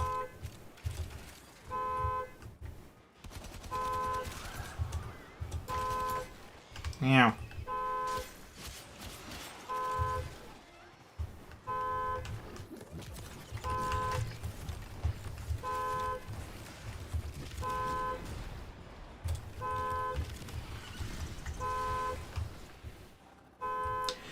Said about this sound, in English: And the car alarm's going off outside.